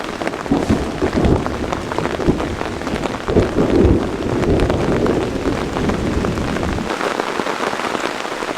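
A thunderstorm with heavy rain drums steadily on a hammock fly during stealth camping, a dense close patter with low rumbles of thunder and gusts of wind buffeting the microphone.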